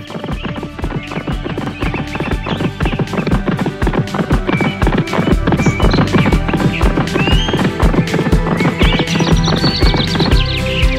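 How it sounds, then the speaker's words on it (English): A horse gallops in an animated children's fable, its hooves pounding in a fast steady rhythm, loud and close, set against a busy musical score with no talking. "Now the horse took off as fast as he could."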